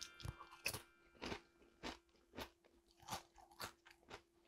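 Someone chews a crispy, unseasoned, batter-fried snack close up, with steady rhythmic crunches about twice a second and no talking.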